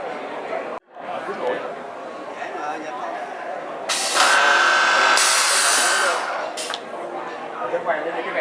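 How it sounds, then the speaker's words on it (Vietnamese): Power tool at a Blum furniture fittings event in Ho Chi Minh City drills holes for hinge and fitting mounts, a loud steady whirring-hiss burst of a few seconds rising over crowd chatter and background voices. "Công cụ máy để hỗ trợ trong việc khoan những cái vị trí để lắp đặt các phụ kiện của Blum."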